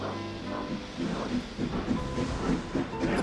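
A train rolls along the rails with a muffled, rhythmic clatter and low rumble, fairly close and steady throughout, with no talk.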